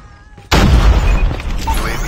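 Grenade blast in the Call of Duty Mobile shooter game, a sudden loud booming explosion after a brief quiet moment, with a heavy low rumble and crackling debris that lingers.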